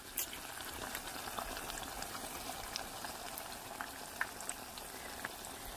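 Vegan cauliflower nuggets fry in a pot of oil with a continuous soft crackling sizzle, steady and fairly quiet, dotted with small pops and no voices.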